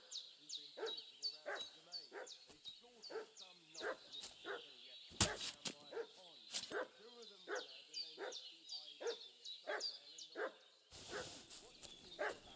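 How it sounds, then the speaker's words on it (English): Dog in a medieval village in Kingdom Come Deliverance 2, barking repeatedly in an agitated rhythm at a moderate distance, with sharp yips, under ambient game sounds and a brief burst of other noise. "What's that dog making such a fuss about?"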